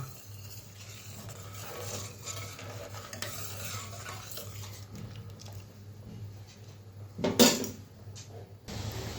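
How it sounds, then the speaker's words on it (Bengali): A litre of milk simmers in a pot and is stirred steadily to thicken, giving a soft bubbling hum with a spoon scraping the pot and one louder clatter toward the end. "তো দুধটা ভালো মতো ঘন করে নেব"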